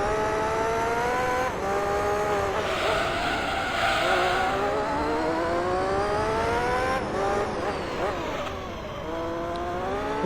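A Formula GT race car in Gran Turismo 3 laps the Monaco street circuit, its engine whining high and rising and falling through gear changes, with tire squeal under a continuous loud roar.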